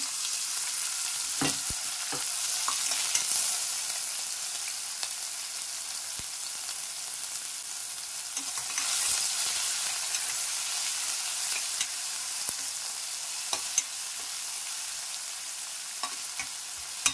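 Onions fry in hot oil with fennel seeds and bay leaf for a Tamil beetroot salna, a steady loud sizzle with occasional scraping stirs of the pan and no voices.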